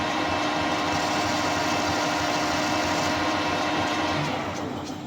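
A metal lathe facing the end of a motorcycle steering headstock neck for a hardtail Triumph custom build, giving a steady, loud, continuous machining drone with a constant motor hum throughout, no voices.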